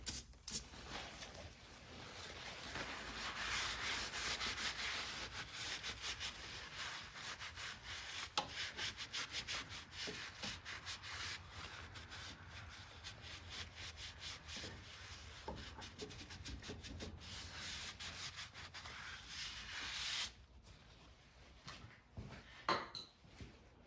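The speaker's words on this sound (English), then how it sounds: "Now we're just going to clean the surface off really well." Steady close rubbing and wiping as a cloth cleans a metal surface on an SN95 Mustang during a strut mount job, continuous scrubbing strokes that fade out near the end with a few light knocks.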